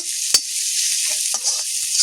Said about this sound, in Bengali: পেঁয়াজ রসুন আদা আমি ভালো মতো করে একটু ভাজা ভাজা করে নিয়েছি